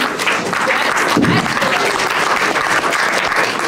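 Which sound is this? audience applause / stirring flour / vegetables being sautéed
audience applause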